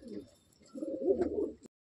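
Madrasi Andhra pigeons coo softly in a loft at Sodhpur, two low throaty coos, the second longer and rolling, close by and fairly quiet before cutting off abruptly.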